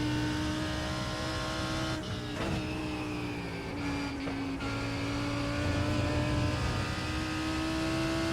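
A GT3 race car in the iRacing sim at Summit Point drones steadily at high revs, its engine note dipping briefly around a hard corner entry and then climbing again, loud and continuous with no talking.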